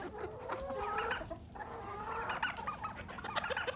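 Free-range chickens and turkeys clucking inside their coop in mid February, a busy overlapping chorus of clucks and squawks that sounds fairly close and keeps going throughout, with no people talking.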